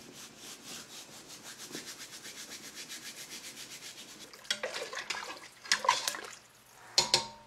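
Chili sauce with salt and oregano is stirred in a pot for pork pozole, with a steady rhythmic scraping and sloshing of a spoon, then a few louder clanks and knocks toward the end.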